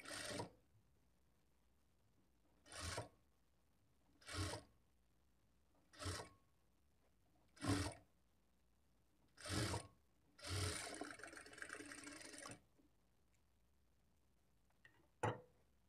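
A sewing machine stitches a boutique-style blouse in about seven short, evenly spaced bursts of rapid stitching, then one longer run, each separated by quiet pauses, with no talk.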